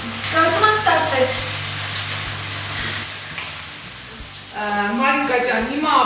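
Garlic sizzling in a hot frying pan, a steady crackling fry running throughout, with voices talking over the start and end.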